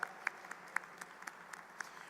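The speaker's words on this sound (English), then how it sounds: "Please permit me to give a round of applause for all of this staff." Faint, evenly spaced claps at a university Founder's Day ceremony honouring staff, a thin rhythmic patter of hands heard at a distance with no talk.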